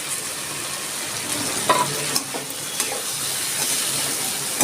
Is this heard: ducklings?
no